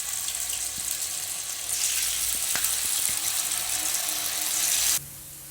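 Cauliflower 65 pieces dropped into hot oil sizzle and bubble steadily with loud, crackling hiss close by, with a few small clicks, before the sound cuts off abruptly near the end.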